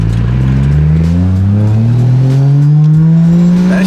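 A car with a Toyota 1JZ VVTi engine revs hard and loud, its pitch climbing steadily for several seconds as the engine note drones up, with no talking over it.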